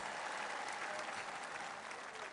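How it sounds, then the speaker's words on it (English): Steady, dense applause from a large crowd at an outdoor public celebration at New York City Hall honoring the Knicks' victory, loud and continuous throughout with no talking over it. "let's give them a round of applause"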